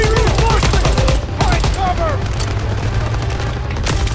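Rapid machine-gun bursts and repeated shots fill a Call of Duty WW2 PC battle, loud and dense over a rumbling low background, with brief whistling effects mixed in.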